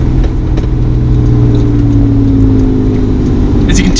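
Steady drone of a car driving at speed, with engine and road noise that swells slightly as another vehicle goes past on the left, close and continuous throughout.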